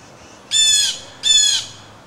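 Blue jays give two loud, harsh squawks, each about half a second, close by while mobbing a raccoon outdoors.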